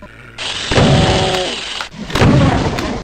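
Two sharp, loud gunshot blasts in the video game Doom 2 ring out about a second and a half apart, each with a booming, echoing tail.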